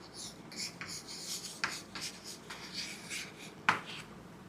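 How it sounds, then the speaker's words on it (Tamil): Pen strokes scratching across paper while a sentence is written, in short rubbing bursts with a couple of sharper ticks, close and quiet, without speech. "நான் ஒரு சென்டென்ஸ் எழுதுகிறேன் பாருங்கள்."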